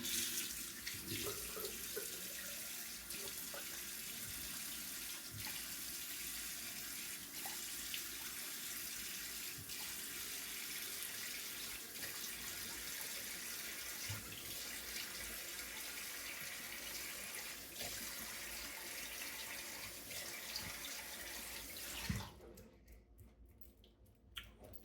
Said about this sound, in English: let me rinse my face off right quick